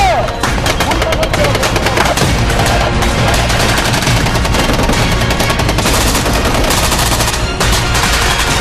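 Loud gunfire and machine-gun bursts during a military combat training exercise in hilly terrain, dense rapid volleys filling the whole stretch without pause, near and overwhelming.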